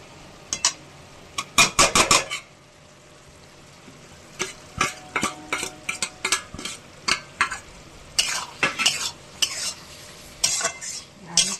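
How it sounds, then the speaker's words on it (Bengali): Coriander leaves stirred into a pan of frying food, with sharp scraping bursts of a utensil against the pan repeating irregularly over a faint steady sizzle, close and fairly loud, no talking. "আর একটু শুকিয়ে নেবো আমি, ভাজা ভাজা করে নেবো।"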